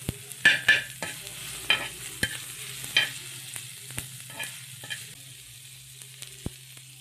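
Val bean pods sautéing in a pan, with a soft background sizzle of frying and sharp clinks and scrapes of a spatula stirring at irregular intervals, close up.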